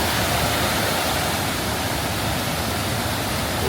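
A turquoise waterfall, its water tinted by calcium carbonate, rushes loud and continuous as an unbroken roar of falling water with no voices present.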